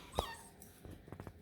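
A beagle puppy whimpers in a short, faint cry near the start, followed by a few softer, wavering whines.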